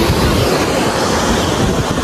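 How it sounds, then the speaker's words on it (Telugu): Sea waves wash in at a rocky beach in Pondicherry, a loud, steady roar of surf mixed with heavy wind buffeting against the microphone, with no voices. "ఇది రాక్ బీచ్, సముద్రమే."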